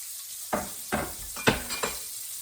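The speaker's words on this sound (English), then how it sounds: "So we're going to saute the onions here a little bit" Onions sautéing in bacon grease in a pan: a soft background sizzle punctuated by five quick stirring scrapes and clinks, faint and close, with no talking.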